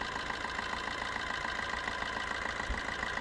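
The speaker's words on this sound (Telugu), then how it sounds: "ఇంజన్ బీటింగ్ కూడా చూసుకోండి. చాలా అంటే చాలా సైలెంట్గా ఉంది." A Maruti Swift Dzire engine idles smoothly and quietly, a low, even rhythmic hum with steady pulsing and no voices.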